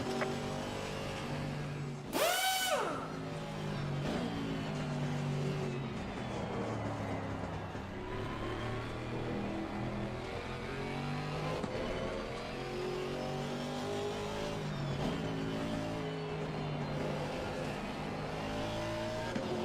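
A race car engine in Assetto Corsa Competizione revs hard and accelerates through gears, loud and close, with rising and falling pitch sweeps, a brief sharp burst near the start, and continuous throttle roar.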